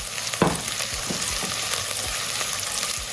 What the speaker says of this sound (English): now we can go ahead and add in the diced onions